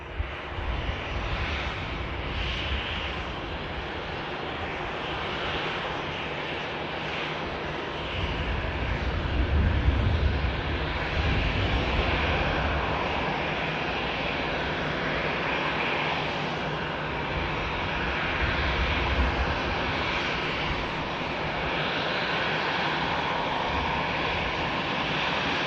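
An airliner comes in to land at Manchester Airport, its engine roar building and swelling in two louder surges over a steady broad rumble, heard from a distance outdoors without talking.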